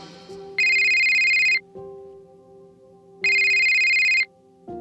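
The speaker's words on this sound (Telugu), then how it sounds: "ఇంతలో ఆకాష్ భోజనం చేస్తూ ఉండగా అతని మొబైల్కి మీరా నుండి కాల్ వచ్చింది" A mobile phone rings with an incoming call, two loud electronic ringtone bursts of about a second each separated by a pause, over a soft background musical tone.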